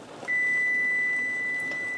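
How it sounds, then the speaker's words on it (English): Kitchen timer for boiling noodles beeping with a steady high electronic tone, a sustained clear beep lasting well over a second against quiet kitchen background. "and that's my timer for the noodles"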